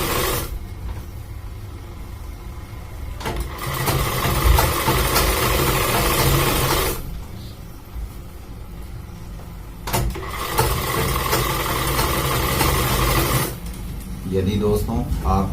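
Electric sewing machine stitching the edge of men's underwear, a steady buzzing run in long bursts with short pauses between, fairly loud and close.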